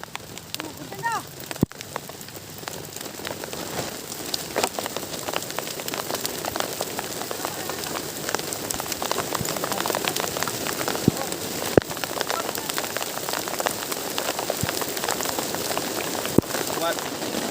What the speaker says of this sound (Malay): Hujan dah.